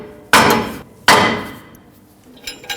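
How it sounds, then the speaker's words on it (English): Two sharp, loud metal hammer blows, about a second apart, strike the back side of a rear brake rotor stuck on a Ford F-150 axle (2015-2020 model). Each ringing clank fades out before the next. "so now I can hammer it from the back side."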